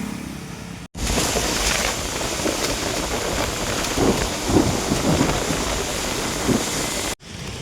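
Heavy rain from Cyclone Montha pours down steadily with low rumbles of thunder rolling beneath it, loud and continuous, with a few brief breaks in the sound.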